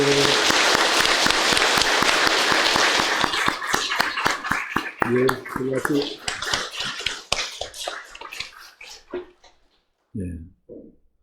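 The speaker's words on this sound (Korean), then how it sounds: "박수로 격려하겠습니다" A Korean church congregation claps in encouragement during Sunday worship, a loud dense burst that thins into scattered individual claps and fades, with a few voices speaking briefly near the end.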